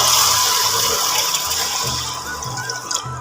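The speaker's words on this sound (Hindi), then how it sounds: "तो मैं इसमें पानी ऐड करती हूँ।" Water pours steadily into a pan of fried masala gravy, a loud continuous splashing and gurgling stream lasting several seconds, close up with no talk.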